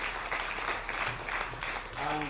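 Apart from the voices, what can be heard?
audience applause at memorial lecture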